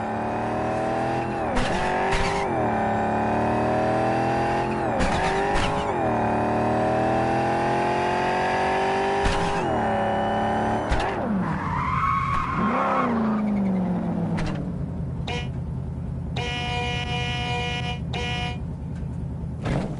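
Car driving in the video game Cyberpunk 2077 on PlayStation 5, with engine revving in repeated surges, tires squealing through skids, then a swooping slide and quieter rolling with faint beeps near the end.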